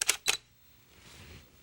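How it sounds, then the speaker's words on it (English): A Canon 50D DSLR gives its autofocus confirmation as two quick, sharp beeps close to the microphone, followed by faint quiet room noise. "you hear it beep to tell you it's focused"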